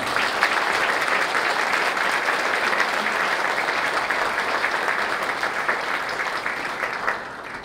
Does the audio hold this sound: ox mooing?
no